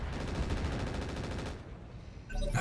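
Rapid machine gun bursts firing tracer ammunition from a mech in the modded Battletech game RogueTech, a fast, dense rattle that stops abruptly, followed by a brief impact near the end.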